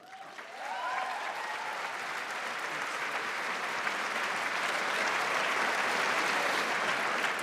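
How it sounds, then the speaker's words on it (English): Warm audience applause welcoming a speaker to the stage at a public lecture, swelling within the first second into a dense, even wash of clapping that holds strong throughout. "thank you for that warm applause"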